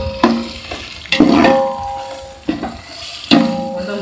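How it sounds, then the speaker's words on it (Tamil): Tomatoes sautéing in a pan over a wood fire for birthday biryani, with loud bursts of sizzling and frying as they are stirred, several separate surges fading between stirs, plus faint clinks of the pan, with no voices. "தக்காளிலாம் அவர் போட்டு வதக்கிட்டு இருக்காப்புல"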